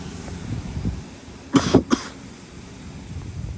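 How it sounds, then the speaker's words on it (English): A person coughs close by in a quick cluster of two or three rough coughs, surrounded by quiet background noise. "I don't even know why I'm coughing."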